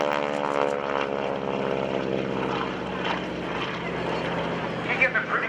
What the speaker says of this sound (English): You're getting a pretty good growl out of that engine, Bill.